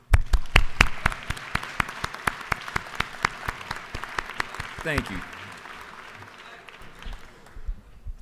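Legislators in a state House chamber give a steady round of hand-clapping applause, with sharp individual claps standing out over a broad wash. It fades over several seconds while a voice speaks briefly over it.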